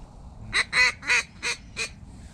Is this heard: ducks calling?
yes